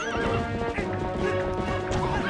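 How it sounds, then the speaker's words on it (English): A horse in Zelda: Twilight Princess HD whinnies loudly while its hooves clatter in a running clip-clop, set against game music and explosion noise. "Hey, the horse is running in circles. Looks like it's startled by the bombs."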